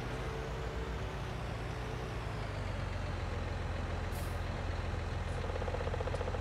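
Truck engine in the Farming Simulator 19 video game, a steady low drone with continuous rumble, with a short hiss of air brakes releasing near the middle, alone without talk.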